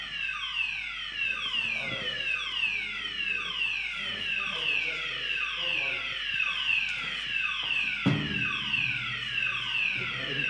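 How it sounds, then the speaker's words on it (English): A fire alarm sounds continuously through a talk at a Berlin translation event, its repeated falling electronic sweeps loud and steady in the room, with a louder jolt near the end and faint speech underneath. "Oh, is that a fire alarm?"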